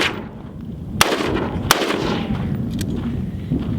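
Rapid shotgun fire at outdoor targets: two sharp, loud reports about a second apart over a constant background rumble, with a fainter shot trailing after.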